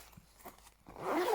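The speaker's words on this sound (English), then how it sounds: "I love this because you can just do it up, zip it up" A zipper closes along a pouch that holds colouring supplies: a few soft scrapes at first, then one louder, steady zip that runs to the end, near and clear with no talking.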